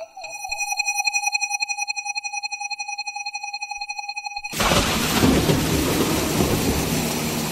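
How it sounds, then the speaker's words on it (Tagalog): Heavy rain roars in, loud, dense and continuous, after a steady pulsing electronic tone stops abruptly; no distinct thunderclap stands out. "Ang lakas ng ulan"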